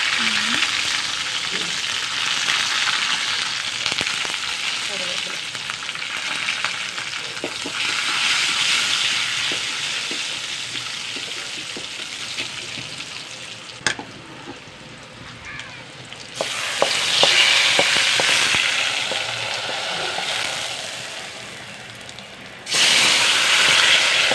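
Mustard seeds, shallots and dried red chillies sizzle and crackle in hot oil for a tempering, a loud close frying hiss that dips and swells with stirring, brief pops and clatter, and some quiet talk.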